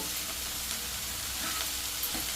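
Amaranth leaves fry in a pan with a dense, continuous sizzle and soft stirring scrapes throughout, close and steady with no voices.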